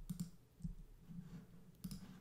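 A computer mouse clicked a few times with the Command key held while selecting a path layer in photo-editing software: faint, isolated sharp clicks in a quiet room, the last a quick double.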